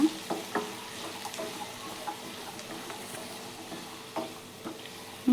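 Radish pieces frying in a pan with chilli and onion, a soft steady sizzle with occasional sharp scrapes and knocks of a spoon stirring, no voices.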